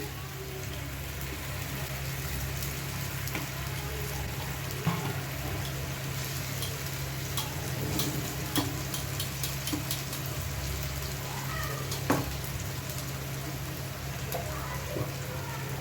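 Tomatoes sizzle in a pan of fish curry base with a soft, steady frying hiss, fairly faint and even, broken by a few sharp clicks and clinks of utensils.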